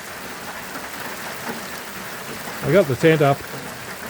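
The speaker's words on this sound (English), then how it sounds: "Now I'm in camp, it's chucking it down." Heavy rain pours steadily over a camp after a tent has been pitched, a constant moderate hiss that runs throughout while someone speaks briefly near the end.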